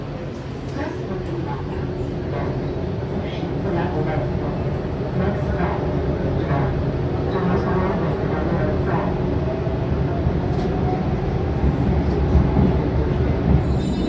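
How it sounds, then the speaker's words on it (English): Steady rumble and hum of a driverless Ansaldo Breda metro train riding along the tracks in Rome, constant and fairly loud with faint rattles and light squeaks throughout. "we board one of the driverless metro vehicles from Ansaldo Breda"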